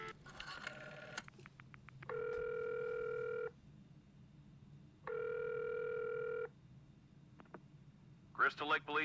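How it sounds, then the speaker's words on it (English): Rotary phone in the video game Friday the 13th: The Game, with a brief dial clicking followed by two long, steady electronic ring tones separated by a pause, and a voice talking at the start and end. "Yes, this is what you call a rotary phone"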